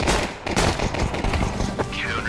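Rapid gunfire from a Counter-Strike competitive match, dense overlapping shots in a loud, continuous burst with a voice faintly underneath.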